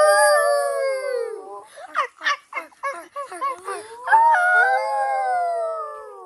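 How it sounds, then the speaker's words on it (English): Several dogs howl together in long, rising and falling wails, then break into a burst of short yips and barks before drawn-out howling resumes, fairly close and loud with no talking, at a countryside stay on Evia, Greece. "Why are you howling?"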